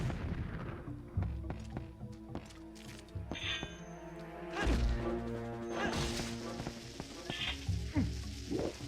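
A bomb explodes in the Zelda game Twilight Princess, one heavy booming blast partway through, set against steady in-game music with other sharp crashes and thuds around it.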